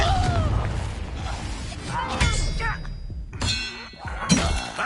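Confringo blasting spell impacts in a video game, several thuds and shattering crashes with ringing metallic tones, mixed with game voices and effects throughout.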